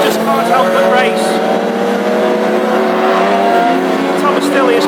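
Classic hot rod race cars scream around a circuit in Tipperary during practice, their engines whining in rising and falling tones as they pass and jostle, a continuous loud racing drone.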